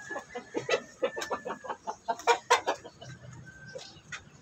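A hen broods over her eggs in a backyard poultry setting, giving a series of soft, rhythmic clucks close by, with a faint crowing-like note in the background.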